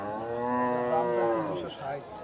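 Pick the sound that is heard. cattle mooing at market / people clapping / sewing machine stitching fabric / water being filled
cattle mooing at market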